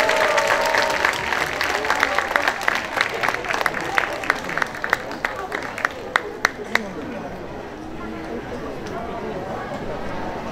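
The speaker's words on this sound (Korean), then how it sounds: "뜨거운 박수를 부탁드립니다" Festival audience clapping for a Ukrainian performer on an outdoor stage in Seoul, dense applause with scattered sharp claps that thins and fades out, chatter and talking running underneath.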